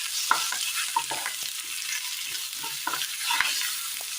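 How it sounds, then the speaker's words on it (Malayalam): Curry leaves are stirred into a sizzling frying mixture in a pan, a steady hiss of frying overlaid with scattered scrapes and taps of a spoon, close and continuous. "കറിവേപ്പില, മൊത്തത്തിലൊന്ന് മിക്സ് ചെയ്തെടുക്കണം."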